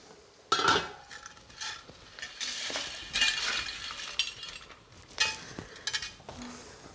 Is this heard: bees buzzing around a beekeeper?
no